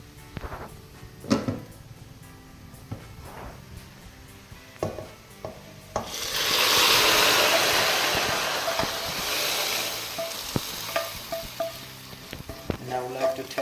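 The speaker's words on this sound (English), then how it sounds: "we can just add these fried onions now into the thing while it is still simmering" Scattered knocks and clinks of a pan over a simmering lamb stew, then a loud hissing sizzle swells for several seconds as fried onions go in, fading back to occasional stirring taps.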